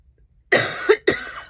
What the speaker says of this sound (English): Still got a little bit of cough